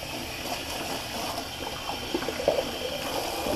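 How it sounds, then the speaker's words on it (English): Tap water runs steadily to rinse a shaving brush, a continuous hiss and splash of flowing water with occasional small splatters and gurgles near the sink. "let me quickly rinse off my brush so I can show you"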